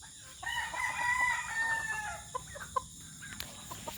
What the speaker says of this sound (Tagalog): Ito na mga iba kong mga tandang.